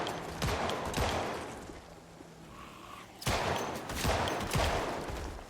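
Pistol fire in the zombie survival game Project Zomboid, loud close shots in two clustered bursts with a brief lull between them and no voices.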